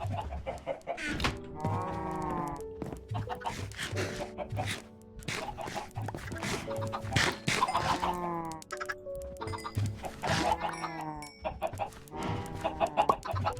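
Chickens in the Minecraft video game cluck in short repeated bursts, with occasional sheep bleats mixed in. The game sounds come through close and clear, with no talk.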